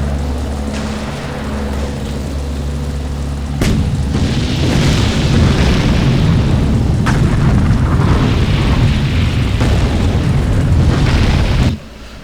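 Artillery bombardment in the World War II strategy game Sudden Strike 3: dense, continuous rumbling explosions with sharp bursts layered over a low roar for most of the stretch, ending abruptly.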